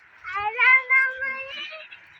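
A cat gives a drawn-out, wavering meow close by, rising and falling over about two seconds.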